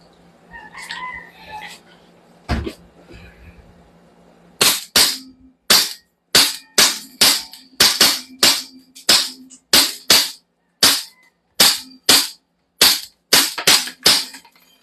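A toy gun fires a long string of sharp, snappy cracks at a fairly steady quick rhythm, loud and close. A voice is heard briefly before the shots begin.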